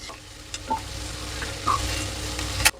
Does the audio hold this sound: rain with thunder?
no